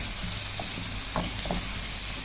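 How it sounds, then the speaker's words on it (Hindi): Chopped onions fry gently in a pan until soft and translucent for an egg breakfast dish, giving a steady close sizzle with a few light stirring scrapes and no talk. "इसको हमने थोड़ा सा फ्राई करना है।"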